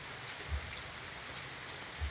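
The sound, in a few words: rain during a storm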